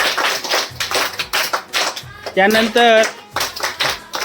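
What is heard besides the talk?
schoolchildren clapping for the winning group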